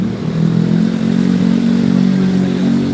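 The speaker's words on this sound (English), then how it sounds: "The mufflers are loud here." Loud vehicle mufflers drone past on a street, a steady, close, heavy low-pitched engine roar that holds without a break and has no talk over it.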